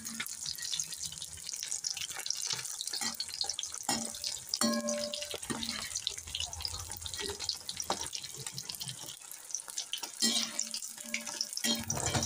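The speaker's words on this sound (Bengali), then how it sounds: "একদম লাল লাল মুচমুচে করে ভেজে নেব" Moray fish pakoras in gram flour batter frying crisp in hot oil, giving a loud continuous bubbling sizzle close by, broken by light metallic clinks and taps of a utensil against the pan.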